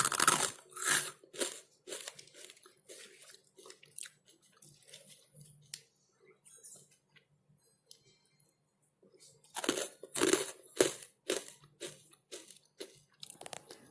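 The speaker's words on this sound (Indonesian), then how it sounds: "pilus ini renyah sekali dan enak ya" Crisp, spicy pilus kencur snack is crunched and chewed close up in loud irregular bursts, fading to softer chewing through a quiet middle before a second run of sharp bites.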